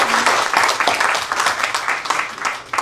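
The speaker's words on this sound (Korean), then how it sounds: "우리 다시 한번 큰 박수로 축하드립니다" Audience applause fills a graduation ceremony at a New York theological seminary, dense clapping from a large crowd sustained steadily throughout with no break.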